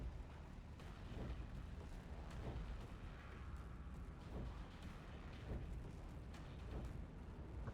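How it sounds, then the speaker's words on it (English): Earthshaker artillery fires in Warhammer 40,000, a series of faint, muffled booms and bursts over a low background rumble. "We can fire multiple shots with the artillery."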